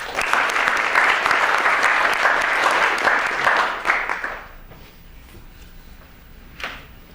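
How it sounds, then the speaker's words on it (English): A room full of people claps in a dense, steady round of applause for about four seconds, then it thins out and fades into quiet room noise with a faint knock near the end. "But a round of applause for both of them."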